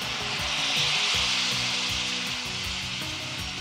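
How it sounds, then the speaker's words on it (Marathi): Steady loud sizzling of sautéed masala as water hits the hot pan, a continuous frying hiss with faint stirring scrapes, close and alone without talk. "चला मसाला मस्त परतून झाला की यामध्ये घालूयात पाणी"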